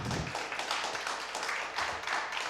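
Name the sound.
audience applause after a talk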